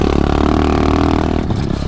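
Pit bike, a 125cc dirt bike, revs hard close by for a short burst, a loud rattly buzzing drone with clattering texture, its pitch wavering as it pulls away, no voices.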